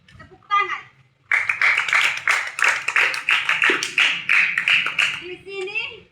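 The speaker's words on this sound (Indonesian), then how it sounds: "Tepuk tangan." A group, likely children, clapping hands in a rapid irregular burst of sharp claps lasting several seconds, close and loud, with brief voices before and after.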